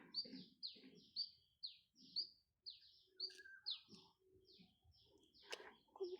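Small birds chirp in repeated quick high tweets at a rural village home in Perak, Malaysia, with occasional soft voices and household sounds beneath.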